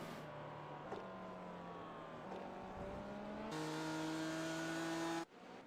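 Race car engine from a P2 Corvette in the iRacing sim at the Daytona 24 Hours, a steady high-pitched engine whine holding loud and close, stepping through gear changes with pitch shifts and cutting out sharply near the end.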